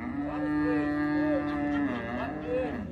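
Cattle moo at a livestock fair in Ouricuri, Pernambuco, one long lowing call followed by shorter wavering moos, fairly close and clear, with faint market sounds behind.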